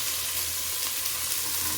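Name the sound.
green beans added to a sizzling pan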